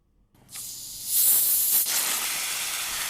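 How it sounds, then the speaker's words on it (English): A carbonated drink bottle is opened: a brief pop, then a loud, bright hiss of escaping gas and steady fizzing that keeps going, heard up close with no one talking. "You open the top and there is a fizzing sound"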